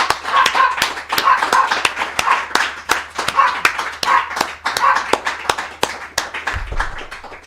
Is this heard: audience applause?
yes